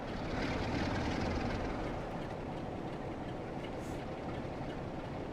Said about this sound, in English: I love hearing a train going fast when the engine, the locomotive is blatantly coasting